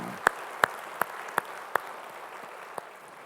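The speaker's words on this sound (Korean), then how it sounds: "우리 찬양 받으실 주님께 영광의 박수 올리겠습니다" Six sharp, isolated hand claps spaced about a third of a second apart ring out in a church worship service, with a seventh lone clap after a pause, fairly faint against a quiet room.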